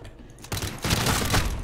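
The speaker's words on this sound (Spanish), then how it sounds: "Ahí están los tiros." Gunfire in the Call of Duty Modern Warfare campaign breaks out as a burst after a quiet start, the rattling fusillade continuing at a distance with a dense, sustained crackle.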